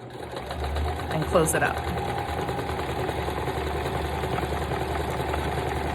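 A sewing machine stitches a zigzag over fabric scraps, a fast steady mechanical chatter that runs throughout, with a person speaking briefly over it near the start.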